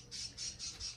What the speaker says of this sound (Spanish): Mis pájaros son igual que yo de platicadores.